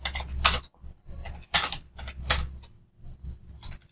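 Typing on a computer keyboard during a Photoshop session, irregular clusters of key clicks and heavier keystrokes close to the microphone, with short pauses between bursts and no talk.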